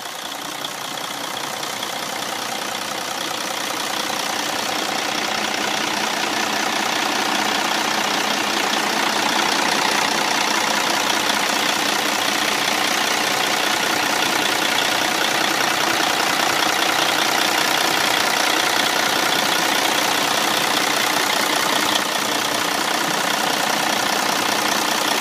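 A 2007 Freightliner FLD120 truck engine idles steadily, a loud, continuous diesel rumble with a knocking texture that holds unchanged for the whole stretch, with no talk over it.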